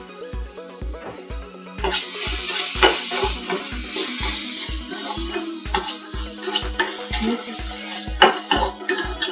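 Green chillies, tomato and curry leaves sizzle and fry in a pan for rava kichadi, with a loud steady hiss and a spoon scraping and stirring in a regular rhythm close by.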